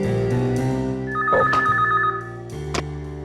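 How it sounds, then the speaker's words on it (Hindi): A phone rings with a wife's call in a detective crime drama, a trilling bell tone sounding alone over a steady background hum. "मेरी वाइफ का फोन है।"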